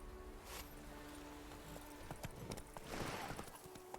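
Horse hooves clip-clopping in The Witcher 3, a steady walking rhythm of soft thuds over a busy game soundscape, with a louder burst of clattering around the middle of the stretch.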